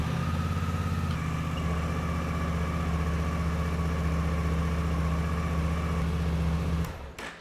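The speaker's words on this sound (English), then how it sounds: "Then we can start the engine and run it for 2 to 3 minutes and get that oil warmed up" A 2023 Suzuki V-Strom 800 motorcycle engine idles steadily after a cold start to warm the oil, a smooth, even mechanical thrum held at constant pitch for several seconds before cutting off abruptly near the end.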